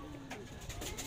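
A racing pigeon in San Pedro, Laguna coos softly in a short, low, warbling call, close by over steady background noise.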